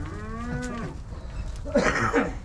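Cattle moo twice at a livestock market in Uzynagash, Almaty region, a long low drawn-out call followed by a rougher, louder bellow, with faint background noise.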